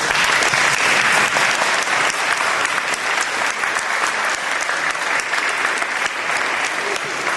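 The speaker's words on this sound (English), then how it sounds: "would you like to give those people a round of applause?" Applause at a school technology tournament, a loud, dense and continuous roar of many hands clapping, evenly sustained throughout from a large nearby audience.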